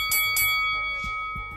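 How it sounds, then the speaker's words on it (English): A small bell rings twice in quick succession, bright and close, then fades into quieter ringing with a few soft knocks as it settles. "it's going to be a little bell that you're going to hear now"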